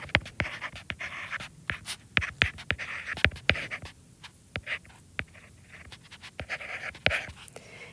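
Pen or pencil scratching out an answer on paper for an algebra practice test, a quiet run of quick, irregular strokes and taps close by, with no talking.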